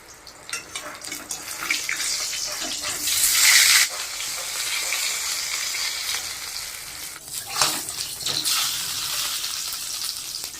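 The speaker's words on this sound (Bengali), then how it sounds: "এখন আমি বেগুনটা ভাজে নেব।" Eggplant frying in hot mustard oil in a pan, a steady bright sizzle running throughout with louder spitting bursts and stirring clatter; no voices.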